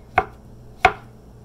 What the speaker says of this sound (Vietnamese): Đây, nấm mình sẽ xắt lát ra thế này.